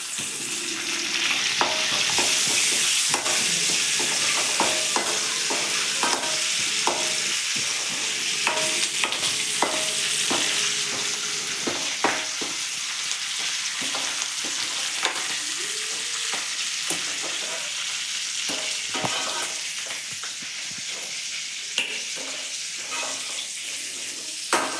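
Curry leaves crackle in hot oil in a frying pan, giving a steady loud sizzle with repeated scraping stirs throughout, no voices heard.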